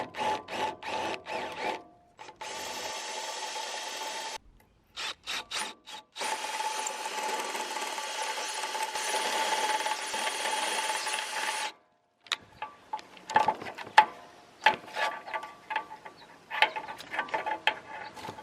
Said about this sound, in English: First we'll drill a small pilot hole. This step bit goes all the way up to 3/4 of an inch.